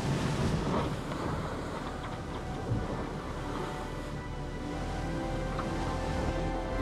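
Wind and waves at sea aboard a racing sailboat in the Vendée Globe 2024, a continuous loud roar of gusting wind buffeting the microphone over rushing, splashing water, no voices.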